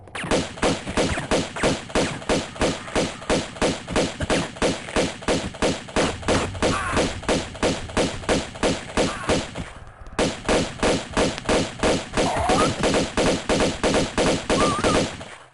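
Rapid gunfire in Tomb Raider II, a steady run of loud, evenly spaced shots repeating fast for several seconds, a brief pause, then the volley resumes just as densely.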